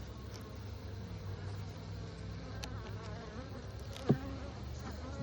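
Honey bees buzz around an opened hive on a cool day, worked without smoke. A soft, continuous swarm hum fills the air, with one brief louder bump near the end.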